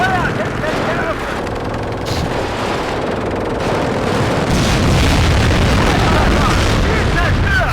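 Gunfire and heavy booms from the video game WARNO keep up a dense, loud barrage of overlapping shots and blasts, with game voices mixed in.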